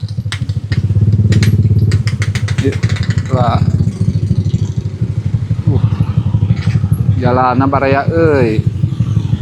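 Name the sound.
motorcycles passing on road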